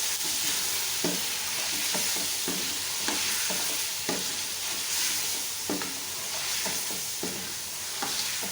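Mutton with garlic ginger paste stir-fried in a karahi: a steady loud sizzle throughout, with repeated scraping and stirring strokes of a spoon against the pan, no voices.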